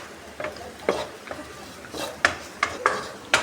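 A spoon stirs a restaurant-style potato fry in a pan, giving intermittent scraping strokes and a few sharp metallic clinks over a faint sizzle, close by with no talking.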